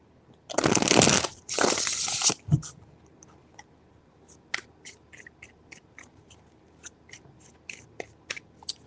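Tarot cards shuffled by hand: two loud riffling bursts close by, then a trail of quieter taps and shuffles, with no one speaking.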